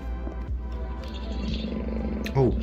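A cat purring, played by a Rossetta star projector in white noise mode: a low, rumbling, rhythmic purr that stays steady and close, then briefly swells louder near the end.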